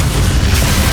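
A Bombarda explosion spell in the Hogwarts Legacy video game fires during a final boss fight, producing a loud, heavy, rumbling boom that fills the whole moment.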